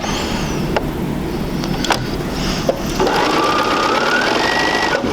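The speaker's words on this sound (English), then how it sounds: "we're going to go ahead and sew that" A sewing machine stitches quilt squares in a loud, close, steady mechanical whir. It is broken by a few clicks and brief pauses, then runs on continuously.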